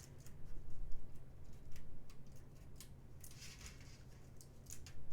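A die-cut paper piece is peeled out of a festive foliage metal die, giving a series of faint, crisp ticks and small tearing snaps close by, irregularly spaced over a low steady background hum.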